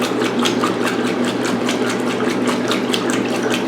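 A 1996 Maytag Dependable Care Plus top-load washing machine runs a wash cycle, a steady close mechanical churn with a regular sloshing pulse of water about four times a second.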